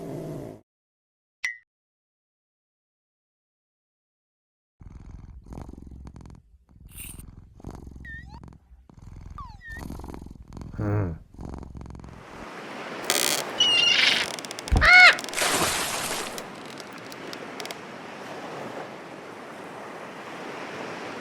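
A cat in the video game Barrelhead Bay purrs in a low, rumbling loop against rolling ocean surf and wind, with a few bird chirps and brief chimes, no talking.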